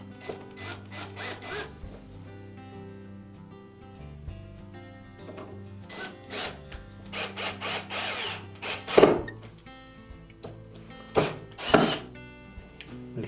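A power drill drives screws into the door hinge of a Frigidaire dryer in several short whirring bursts that grow louder toward the end, with light background music between them.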